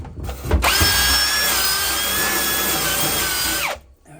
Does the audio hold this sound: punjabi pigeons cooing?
no